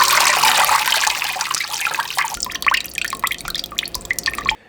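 Homemade bone broth poured and dumped through a slotted spoon, a splashy rush of liquid easing into irregular drips and trickles, close and fairly loud before ending abruptly.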